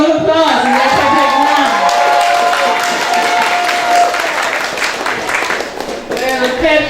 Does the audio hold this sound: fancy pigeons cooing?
no